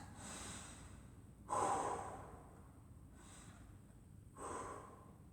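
Two deep, heavy breaths after exercise during a home martial arts workout, each a loud breathy rush a few seconds apart, close by, with quieter breathing between them.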